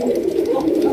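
A female pigeon on a Bangladeshi pigeon farm gives a brief, close, low, throaty coo lasting about a second, with no voices over it.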